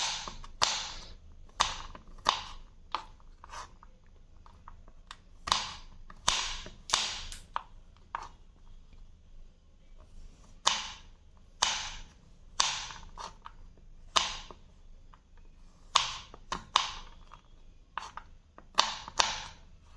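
A knife cuts nuts such as almonds on a board while sabudana and vermicelli payasa is being made, giving sharp, crisp chops in short clustered runs with pauses between them, close and clear with no voices.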